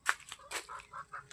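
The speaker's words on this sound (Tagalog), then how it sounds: "May mga manok." Chickens on a small backyard farm give a few short, quiet clucks in quick irregular succession, heard close by against a still background.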